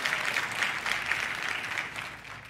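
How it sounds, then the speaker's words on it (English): A church congregation claps during a sermon, a moderate wash of applause that swells and then gradually tapers off, with no voices over it. "Good place to clap."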